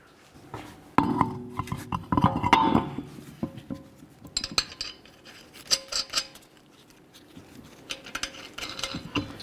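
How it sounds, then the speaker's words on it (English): Metallic clinks and scraping clatter of a lug nut being removed and a wheel being handled on a 2014-2020 Nissan Rogue during a front hub bearing job, with irregular close knocks and rattles spread across the stretch. "get this lug nut off of here and then get the wheel and start putting it on"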